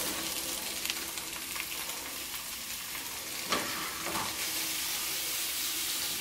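Garlic frying in oil in a pan for Italian-style broccoli, a steady close sizzle and hiss with spattering pops and a couple of louder stirring scrapes partway through.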